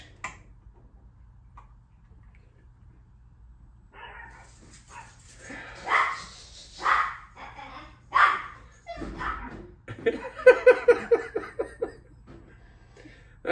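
Small dogs yap in a quick run of sharp little barks, moderately close, after quieter talk and a few scattered louder sounds.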